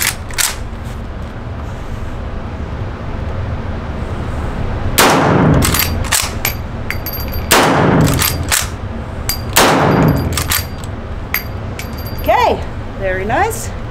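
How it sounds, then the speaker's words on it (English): A rifle fitted with a muzzle brake and firing subsonic ammunition: about half a dozen sharp, loud shots in a cluster with metallic ringing after them, and people talking nearby. "Okay, so we have the muzzle brake on. Let's make some noise."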